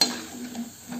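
Papads frying in hot oil in a home kitchen, a soft close sizzle with faint bubbling and a light clink at the start, lasting about a second.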